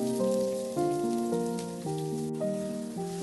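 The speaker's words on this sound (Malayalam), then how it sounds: "ഇതിലേക്ക് ചെറിയുള്ളി അരിഞ്ഞതിട്ട് വഴറ്റിയെടുക്കാം." Chopped shallots sautéing in hot oil in a pan, a continuous rain-like hiss and crackle sitting beneath prominent background music.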